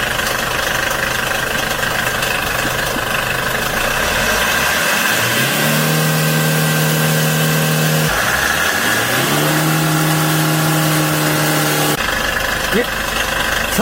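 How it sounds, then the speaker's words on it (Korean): A Hyundai Porter 2 truck engine idles, then is revved hard twice to over 4500 rpm, each time climbing to a loud, sustained high whine before dropping back, close-miked with a voice speaking over it. "실제 주행처럼 가속 페달을 밟아 엔진 회전수를 높여보도록 하겠습니다"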